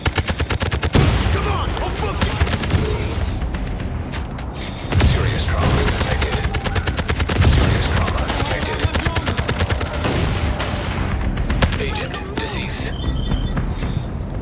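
Submachine gun fire in the video game Division Resurgence, with rapid bursts of automatic shots repeating across the clip, loud and dense, over a continuous layer of game action.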